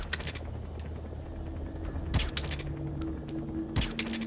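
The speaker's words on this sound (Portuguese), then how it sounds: "já vou meter um tiro na cabeça dele" Tranquilizer gunshots in Metal Gear Solid V, three short sharp suppressed pops spaced about a second or more apart, set against a quiet humming game ambience.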